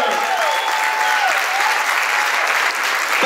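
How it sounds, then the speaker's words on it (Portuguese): Dense, steady applause from a large crowd fills the whole moment, loud and even, with faint whistles on top. "Uma salva de palmas por Victor CFG!"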